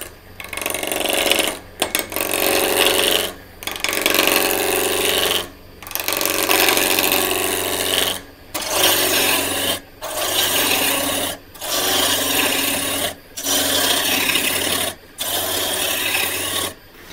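A wood lathe spinning at about 1,000 RPM shapes a mason jar vase blank with a roughing gouge. About ten loud rasping cuts of one to two seconds each are separated by short silent pauses.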